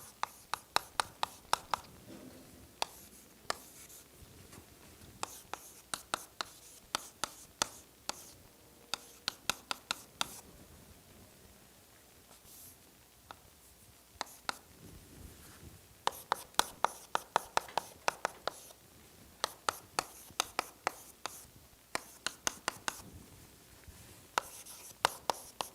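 Chalk writes on a board during a doctoral lecture on partial differential equations. Quiet scratching strokes and sharp taps come in irregular bursts with short pauses, close and faint against a hushed room.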